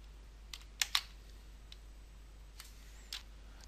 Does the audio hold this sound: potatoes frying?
no